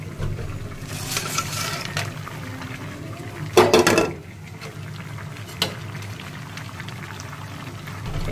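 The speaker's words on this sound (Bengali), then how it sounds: "এখানে মাছ ভাজতে রাখছি" Fish frying in a pan on a gas stove, giving a steady crackling sizzle throughout, with a louder hiss and burst of spattering about midway and a quieter pop later on.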